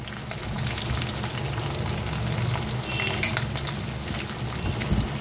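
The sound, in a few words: onion, garlic and green chillies frying in a pan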